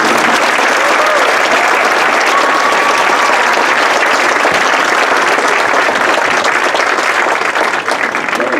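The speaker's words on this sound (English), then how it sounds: "How about a round of applause for the outstanding seniors?" Loud, unbroken applause from a crowd at a school band awards night, honoring graduating seniors, many hands clapping steadily throughout with faint voices mixed in.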